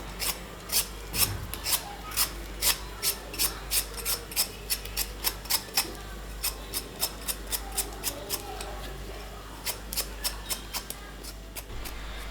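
A peeler rasps repeatedly across raw potato skin while preparing potato chips, a fast regular series of close, short scraping strokes with a low steady hum underneath, no talk.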